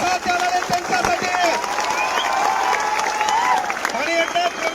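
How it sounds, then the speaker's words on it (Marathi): A crowd of students at a protest rally in Chhatrapati Sambhajinagar applauding loudly, dense steady clapping with cheering and shouts over it, with voices mixed in throughout. "एकदा जोरदार टाळ्या होत्या स्वतःसाठी"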